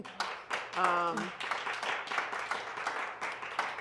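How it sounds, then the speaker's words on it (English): Audience clapping at a live talk show taping, steady scattered hand claps lasting the whole moment, with a voice speaking briefly over the start. "I really like that you guys clap for that"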